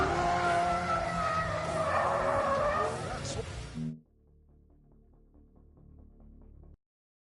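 A Rimac electric hypercar skids loudly in The Grand Tour Game on PS4, with a harsh tire squeal that runs for about four seconds and then cuts to quieter in-game sound. No one speaks.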